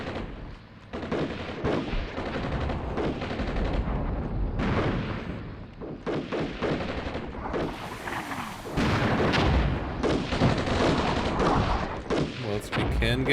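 Howitzer artillery fire in the Armored Brigade 2 war game, a series of loud booming blasts and rumbling impacts at irregular intervals, with continuous battlefield noise between them.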